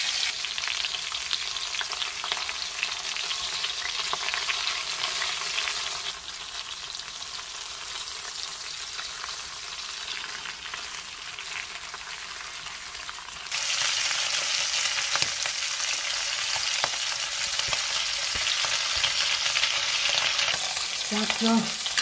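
Fish frying in a pan over high heat, giving a loud, steady sizzle and crackle that runs unbroken and grows slightly harsher partway through, with occasional scrapes of turning and no voices.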